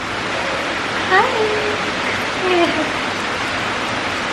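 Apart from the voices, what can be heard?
rain falling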